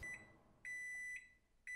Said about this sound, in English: We gotta pop this thing in the microwave.